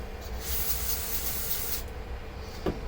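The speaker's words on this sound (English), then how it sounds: "Move it, let it soak for a second, spray it away." Carburetor cleaner sprays onto a Troy-Bilt lawn mower's brass carburetor in a steady, close aerosol hiss lasting over a second, then cuts off, leaving a brief clink near the end.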